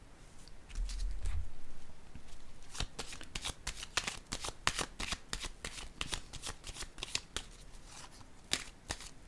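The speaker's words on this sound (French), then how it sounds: "je vais déposer une carte ici" Tarot cards shuffle with a low rustle, then snap and slap down one after another in quick, irregular, crisp clicks at close range.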